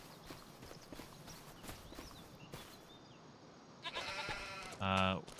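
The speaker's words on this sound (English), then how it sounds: "She's got goats and sheep here." Goats and sheep on a farm in Farming Simulator 25, with a busy layer of clopping and animal noise, then a louder bleat near the end.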